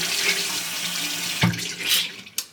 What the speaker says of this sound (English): I'm wetting my beauty blender, so if you hear water,